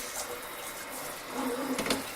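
Water from a kitchen faucet's pull-out spray head hisses steadily into a sink, close and fairly loud, with no talking.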